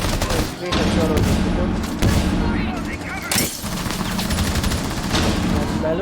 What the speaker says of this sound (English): And Melo gets the first kill for the round